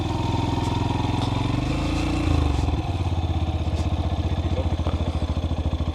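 A dirt bike setting off on a timed run up a mountain trail, its engine revving loud and close, dropping briefly, then settling into a steady throbbing pull.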